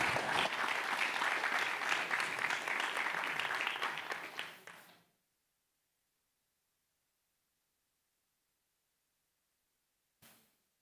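An audience at the Caribbean Investment Forum launch in Barbados applauds the panelists with steady, full clapping that fades into silence, followed by a short final burst of claps.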